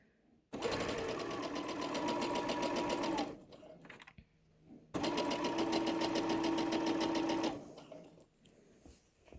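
A sewing machine stitches the elastic casing of pajama shorts in two steady, rapid runs separated by a short pause, close and clear.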